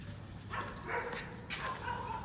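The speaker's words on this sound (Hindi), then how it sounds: "कुत्ते की आवाज़ आती है" A dog gives a few short barks and yips in quick succession, fairly close and loud, with a quiet pause between them.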